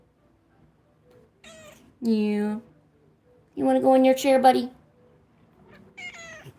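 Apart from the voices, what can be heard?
pet cat named Genghis meowing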